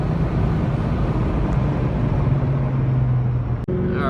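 A 2003 Ford Mustang Cobra cruising in fourth gear at about 3,000 RPM, a steady low engine drone heard from inside the car without a break.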